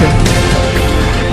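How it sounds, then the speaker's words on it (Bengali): Strong wind blasts across the microphone in a loud, rumbling, buffeting gust that lasts the whole brief moment. "কতটা বাতাস"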